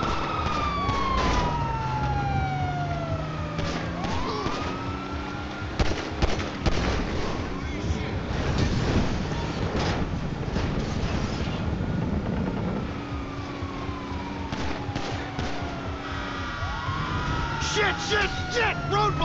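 Police car sirens in GTA V wail and sweep up and down in repeated rising and falling glides, several overlapping as they approach, loud over engine roar, crashes and shouted talk.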